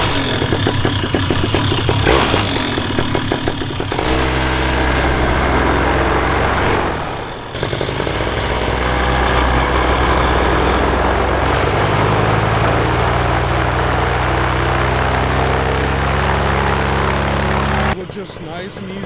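Paramotor engine running steadily during ground training, a loud droning hum close by that shifts with throttle and carries on for the whole stretch, with a voice talking over it.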